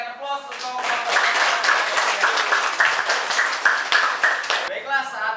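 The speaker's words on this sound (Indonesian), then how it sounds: "Kita berikan aplaus untuk kelompok 1." Classroom applause for a student group, a steady wash of many hands clapping close by for about five seconds, with brief voices at the start and end.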